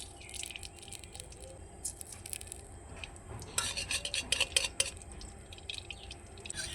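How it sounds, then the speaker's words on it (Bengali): A spoon spreads ghee around a kadai on a gas flame, making quiet scraping and light metallic clinks over a faint sizzle, with a busier burst of scraping midway. "ঘিটাকে চারদিকে আমি ছড়িয়ে দিচ্ছি এইভাবে"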